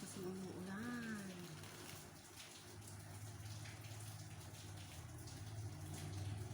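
Rain falls steadily outside, a soft, faint hiss and patter continuing throughout while a person talks over it.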